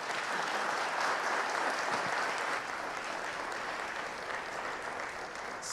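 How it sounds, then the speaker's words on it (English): Sustained crowd applause for speakers at a community storytelling event in Belize, a continuous, even roar of many clapping hands at moderate level lasting throughout, with no talking over it. "a round of applause for our speakers"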